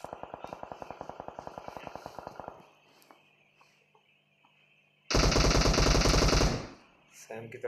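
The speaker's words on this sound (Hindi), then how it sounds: "सैम की तरफ से गोलियां चलाई थी," Automatic gunfire in a PUBG custom tournament match: a rapid, steady burst of shots in the opening seconds, then a quieter lull with faint sounds, followed by a second loud, dense burst of fire near the end.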